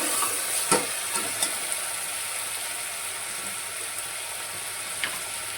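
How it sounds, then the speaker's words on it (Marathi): Lightly browned onion fries in a pan with a steady, moderate sizzle as it is stirred, and scattered scraping clicks from the utensil break through now and then. "आणि आता हे कांदा थोडासा ब्राऊन झालाय, हे याच्यामध्ये छान असं टाकून घ्यायचं, मस्त मिक्स करायचं"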